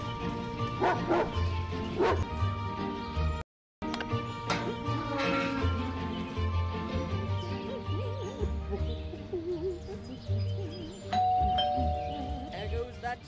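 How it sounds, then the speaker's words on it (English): A doorbell chimes in the video game Scary Teacher 3D, ringing a couple of times amid dog barks, music and game effects, with a voice speaking near the end. "There goes that stupid bell again."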